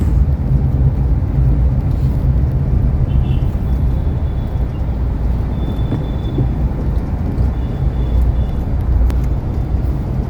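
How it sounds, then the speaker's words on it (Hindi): Heard from inside a car inching through a slow traffic jam in the NCR, a steady loud low rumble of engine and road noise continues throughout, with faint distant horn-like tones and no speech. "ऐसा ट्रैफिक है कि हिलना डुलना बस बहुत कमी से चल रही गाड़ी, आगे पीछे हो रही।"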